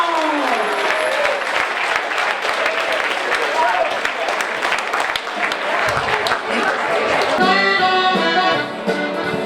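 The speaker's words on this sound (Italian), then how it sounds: "un bel applauso Silvano!" An audience at a church festival claps loudly and continuously under a voice, the applause fading as music swells near the end.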